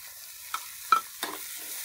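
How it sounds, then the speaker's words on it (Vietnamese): Garlic and soybeans fry in a pan, a soft steady sizzle broken by a few brief stirring scrapes and clicks, close and quiet. "Rồi tỏi nó vàng rồi, mình sấy đậu nành nha mọi người."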